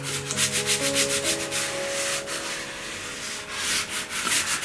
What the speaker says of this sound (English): To make the hole punching easier, I use a wax from a candle and rub it onto the tape